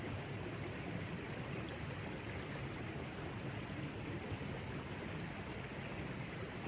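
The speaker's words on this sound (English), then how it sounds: "All you can hear is the gurgling of the stream." A stream at a night campsite in the Upper Derwent Valley gurgles steadily, a continuous, even wash of running water that fills the whole stretch at moderate distance, with no voices.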